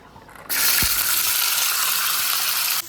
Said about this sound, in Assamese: এতিয়া ইয়াত সৰু গুটি আলু ভাজিম